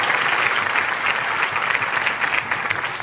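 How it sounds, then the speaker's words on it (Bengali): A room of students gives a student a quiz round of applause, dense steady clapping close by that lasts about three seconds. "একটা জোরে হাততালি"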